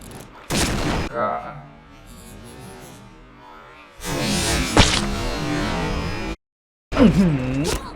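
Barrett sniper rifle shots in a video game: a few heavy, booming blasts spaced seconds apart, each with a rumbling tail, and a voice talking between them.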